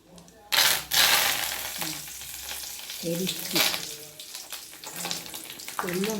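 Curry leaves and urad dal frying in oil in a pan while being stirred, a loud close sizzle with bursts of crackling and scraping utensil strokes, a voice speaking briefly between stirs.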